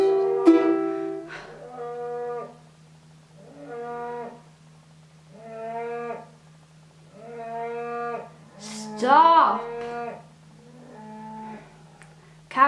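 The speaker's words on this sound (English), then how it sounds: "Cows. Gotta love them." Cows moo repeatedly in long, drawn-out calls, about eight of them spaced a second or two apart, close and clear over a steady low hum. A short spoken word comes at the start.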